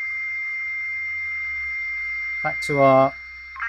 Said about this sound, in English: There are two tones and it switches between them. And that's actually the data.